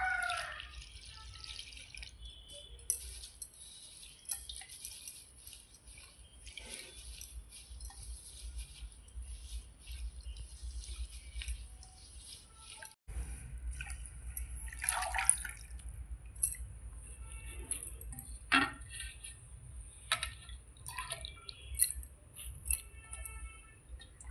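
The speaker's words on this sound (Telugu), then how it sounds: "మునిగాకు కడుక్కోవాలి" Water drips and splashes as drumstick leaves are rinsed, with intermittent sloshing and trickling close by over a steady low background hum.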